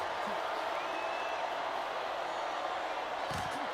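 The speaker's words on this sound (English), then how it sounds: "The crowd is going crazy." Steady, dense crowd roar fills the arena at an EFC fight, cheering continuously at a fairly far distance with a brief burst of louder shouts near the end.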